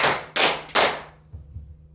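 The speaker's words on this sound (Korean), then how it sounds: "박수 한번 세 번 치겠습니다" A church congregation claps in unison, three sharp loud claps spaced evenly, followed by a faint low murmur.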